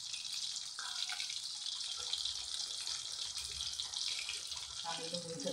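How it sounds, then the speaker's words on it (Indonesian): Tap water runs steadily into a kitchen sink as dishes are washed, a continuous broad hiss with faint clinks from handling, close and moderately loud throughout. "saya sambil cuci piring ya teman-teman"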